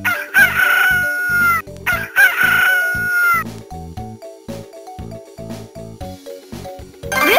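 A cartoon rooster's cock-a-doodle-doo call sounds twice, loud and close, in the Bubble Guppies DS children's game, followed by a bouncy game music loop with plucky repeated notes.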